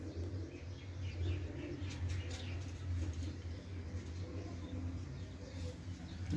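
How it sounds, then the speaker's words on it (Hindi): Pigeons sitting out in the rain cooing softly, low gentle coos repeating under a steady background hiss, faint and fairly distant. "ये बारिश में बैठ गए हैं कबूतर।"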